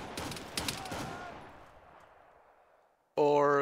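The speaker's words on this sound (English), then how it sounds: "I think he's shooting at us" Gunfire in the Arma 3 video game crackles in a dense burst of rapid shots with a couple of sharper cracks, then echoes and fades into a long tail before a loud tonal sound cuts in at the end.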